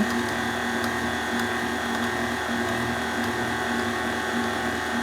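An electric mixer steadily whipping vegan lemon blueberry cake batter, a continuous even motor whir with a faint rhythmic scraping, loud and close with no pauses.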